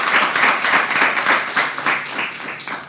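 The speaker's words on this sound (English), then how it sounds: "Another round of applause for all of us." Audience applause and clapping rising at a gathering, dense and steady throughout, with no talk over it.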